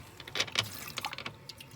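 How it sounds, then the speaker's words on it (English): Leftover cold coffee poured down a small sink aboard a boat on a river, heard close as a brief burst of splashing trickles and drips that fade to light gurgles. "And I can pour that down the sink a little"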